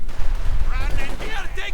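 Machine gun and rifle fire in the World War II strategy game Company of Heroes 2, dense bursts of shots under continuous commentary voice.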